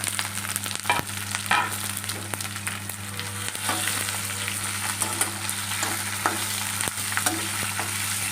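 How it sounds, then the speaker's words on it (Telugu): Green chillies fry in hot oil for a gonguura chutney, giving a steady, close crackling sizzle with occasional sharp pops and stirring scrapes, and no voices. "ఇప్పుడైతే మిరపకాయలు వేస్తున్నాను"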